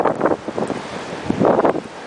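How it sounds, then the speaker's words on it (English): Blizzard Nemo wind at the Scituate, Massachusetts coast in February 2013 buffets loudly past the microphone in rough gusts, with a surf-like roar underneath and no talk. "Really brutal blizzard."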